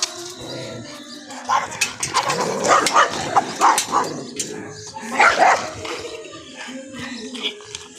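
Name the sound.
dogs barking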